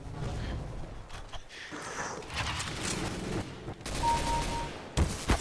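Bursts of rapid gunfire from the video game CS:GO crackle in close volleys and scattered single shots, dense and loud throughout, with faint voices underneath.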